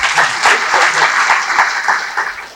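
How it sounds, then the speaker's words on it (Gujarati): An audience in an auditorium breaks into loud, close applause. Dense rhythmic clapping swells and holds for a couple of seconds. "જોરદાર તાળીથી બતાવો"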